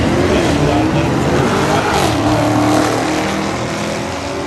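A Dodge Challenger and a Mercedes launch in a drag race, making a loud, continuous engine roar that holds steady and then eases slightly.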